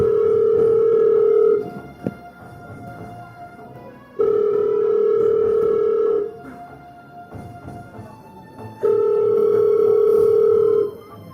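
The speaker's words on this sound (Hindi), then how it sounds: "फोन उठाओ।" A telephone ringback tone sounds in three long, loud, steady buzzes separated by gaps of about two and a half seconds, alone with no speech.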